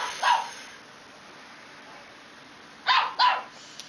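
A dog barks while playing with a cat that boxes at it indoors. One sharp bark comes early, then after a pause two more follow in quick succession, loud and close.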